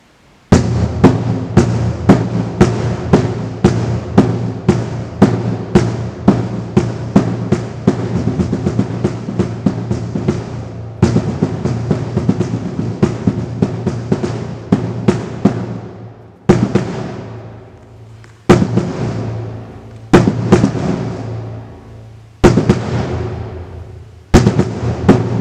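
Marching bass drums play the first loop of an SEC-style cadence, a dense run of sharp, loud hits that later breaks into spaced bursts with brief gaps of ringing decay, with no voices.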